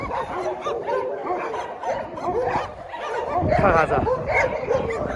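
Dogs outside in a harsh snowstorm at a mountain home, yipping and barking in short bursts amid wind noise, while a person talks briefly over them.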